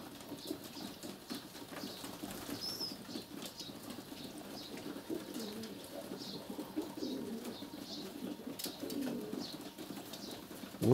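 Feral rock pigeons coo in low, throaty murmurs while wings flap and scuffle in short bursts as they fight, a busy flock close by with no talking.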